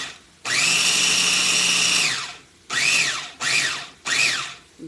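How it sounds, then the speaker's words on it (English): A kitchen food processor grinds cauliflower in one long whirring run followed by three short pulses, each with a high motor whine that swells and drops, loud and close. "I'm gonna grind up the rest of the cauliflower."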